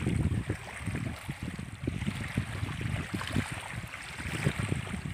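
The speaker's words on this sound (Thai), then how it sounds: "ที่เข้ามารับฟังเสียงคลื่นทะเลน้ำจืด" Small waves lap against the shore of a freshwater reservoir at Pa Sak Jolasid Dam in Lopburi, with soft irregular splashes over a steady wash of wind, fairly faint and with no voices.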